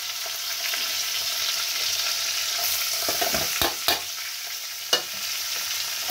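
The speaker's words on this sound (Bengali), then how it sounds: "টমেটো ভাজতে দিয়ে দিলাম।" Tomatoes and chopped onion fry in hot oil in a home kitchen, giving a steady close sizzle throughout with a few sharp clicks of stirring near the end.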